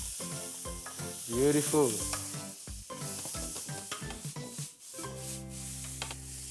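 Onions sautéing in a pan give a loud, continuous sizzle with scraping stir strokes, and a voice briefly speaks over the frying.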